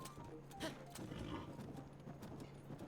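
Horse hooves clip-clop in Zelda: Breath of the Wild, quiet and steady over a low game soundscape, with a few sharper steps mixed in.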